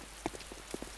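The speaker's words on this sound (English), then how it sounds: "For some reason they're still standing out in the cold rain." Rain falling in the video game ArmA II, a faint steady hiss with scattered soft droplet taps, heard alone.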